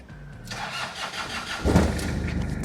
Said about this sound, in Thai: ใช้งานง่ายสตาร์ตติดชึ่งเดี๋ยวผมจะโชว์ให้ดู